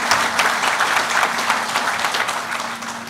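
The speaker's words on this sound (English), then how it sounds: "a big round of applause" An audience at the Choctaw Nation campus headquarters grand opening gives the judicial branch a sustained round of applause, dense steady clapping throughout with no speech over it.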